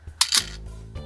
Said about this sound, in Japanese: シャッター切れます。